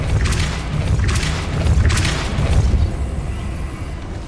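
A Depulso spell cast in Hogwarts Legacy bursts out as a loud, deep booming blast with whooshing surges, followed by a fading rumble.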